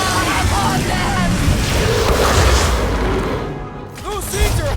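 Gunfire and explosions in the video game Marvel's Guardians of the Galaxy, loud booms and blasts layered densely with music and character voices shouting over the battle.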